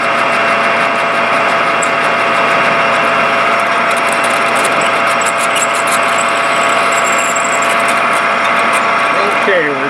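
A C drill bores through stainless steel, making a loud, continuous mechanical whine with a ratcheting, squealing edge. The tone shifts a little near the end as the bit breaks through.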